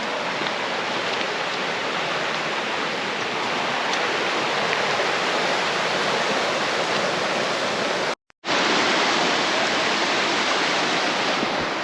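Creek water rushes steadily at an Ozark trail crossing near Richland Creek Falls, a loud continuous broadband wash with a brief dropout near the end and no talking.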